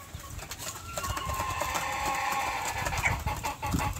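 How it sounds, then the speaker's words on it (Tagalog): Rhode Island Red chickens on a farm clucking steadily up close, a continuous run of throaty clucks and murmurs with a brief louder squawk near the end. "Rhode Island Red."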